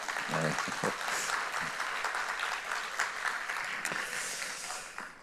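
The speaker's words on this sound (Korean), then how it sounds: "우리 찬양대 격려하며 우리 박수 한번 할까요?" A church congregation at a Sunday worship service in Kuala Lumpur gives its choir steady, full-room applause, sustained evenly for several seconds.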